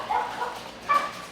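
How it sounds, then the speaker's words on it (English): A dog barks indoors at someone at the door, two short yelping barks a beat apart, fairly close and clear against a quiet room. "So, that was my dog."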